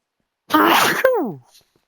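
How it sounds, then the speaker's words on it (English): A single sharp sneeze bursts out loud and close at once, with a strained vocal build-up just before it and a short trailing groan after it, with no other sound around it. "I knew I was gonna sneeze, so I tried to not go anywhere."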